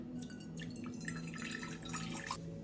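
Water being poured into a cup to measure a third of a cup for a tea blend, a faint, steady trickling with small dripping splashes and no talk.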